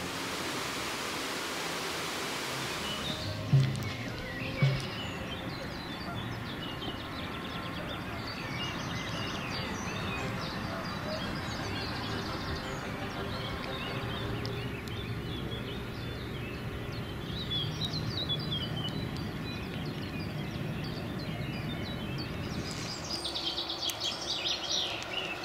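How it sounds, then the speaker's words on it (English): Birds call and chirp in natural surroundings at Lake Kemnade in Bochum, faint intermittent tweets scattered over a steady broadband wash of outdoor ambience, with no voices. "The chit-chat of birds and various animals distract you from your thoughts from time to time"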